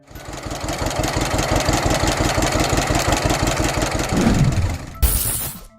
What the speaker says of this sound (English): the put-put sound of a tractor echoing across the fields